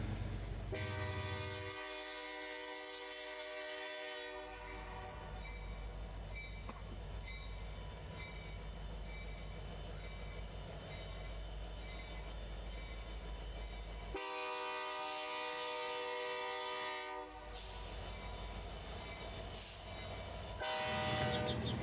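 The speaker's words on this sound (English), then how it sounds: "this train came through heading west to Bear Run coal mine" A westbound SD90 diesel freight train bound for the Bear Run coal mine rumbles past at close range, sounding its horn in long sustained blasts near the start and again later, with a steady roar of engines and wagons throughout.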